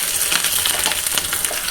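Garlic, chili, cumin and curry leaves sizzle hard in hot oil for a tempering, a dense crackling hiss with sharp popping spatters, close and loud with no talking.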